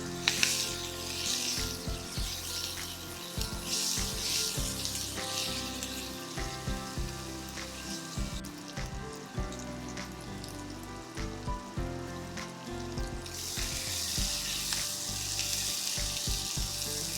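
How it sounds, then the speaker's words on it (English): Butter melting in a pot on the stove, with a steady close sizzle and faint crackling across the whole stretch, alone with no voices. "Now add the butter to the pot and let it melt."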